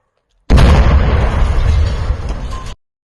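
A sudden, loud blast from a controlled detonation of explosives erupts and roars for about two seconds before cutting off, a single heavy detonation with a broad rumbling body.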